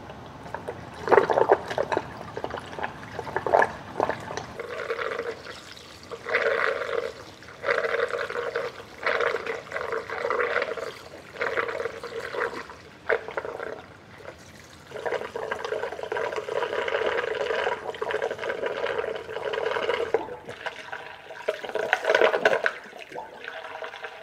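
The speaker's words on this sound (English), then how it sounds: "Now I gotta get the coolant in there without spilling it everywhere." Saw coolant pours from a square plastic cat litter bucket, a steady gurgling stream of liquid that swells and breaks into uneven surges with brief pauses, close and fairly loud.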